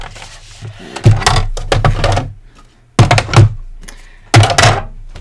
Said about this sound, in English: I grab my big bad big shot